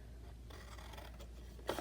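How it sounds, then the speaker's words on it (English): Scissors snipping through paper to cut out a star shape, a soft quiet scraping texture followed by a sharper snip near the end, close and alone. "So I'm going to take my scissors"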